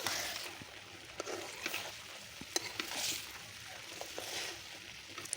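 Food is stirred in a frying pan with its lid off, scraping strokes over a steady sizzle, with light pattering spatters scattered throughout.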